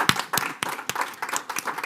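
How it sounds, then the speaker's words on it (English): An audience gives applause to four panelists at the close of a conference session on REDD+ and forest communities: a run of distinct, fairly close hand claps, spaced roughly evenly and continuing steadily for about two seconds with no talk. "let's give a big applause to our four panelists"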